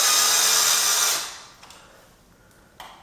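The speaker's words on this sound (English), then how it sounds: "I'll go ahead and screw these in with my cordless screwdriver." A cordless screwdriver drives screws into an IKEA Molger bathroom shelving unit: a loud, close, steady motor whir runs for about a second, then winds down, followed by a few faint clicks and a light knock.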